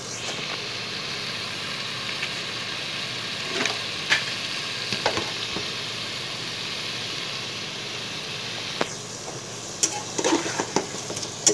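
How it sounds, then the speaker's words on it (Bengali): Carrots being stir-fried with spice masala in a pan give a steady, fairly loud sizzle throughout, punctuated by scraping clicks of a spoon stirring against the pan. "এগুলো আমি ভালো মতো মশলার সাথে মিশিয়ে নেব"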